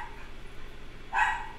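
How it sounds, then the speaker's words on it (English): Dog giving a single short bark in the background, faint and distant over steady low room noise. "Here's, you can hear Charlie in the background. I call him Astro Dog"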